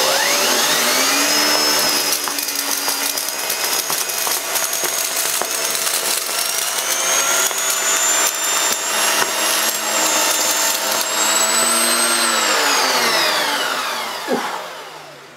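A Hoover Eco G Telios TTG1100 vacuum cleaner runs loud and close with a noisy nozzle, its whining motor rising in pitch as it moves back and forth over debris, then winding down at the end.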